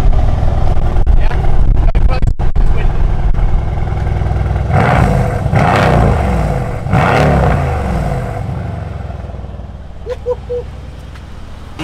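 A Mercedes-AMG engine with its exhaust fitted is revved several times outdoors, loud sharp bursts rising and falling before settling back, heard close up, with brief talking near the end.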